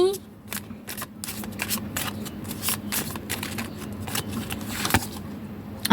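Tarot cards being handled and shuffled at close range, a steady run of crisp riffling flicks and slaps for several seconds, with a voice speaking softly underneath.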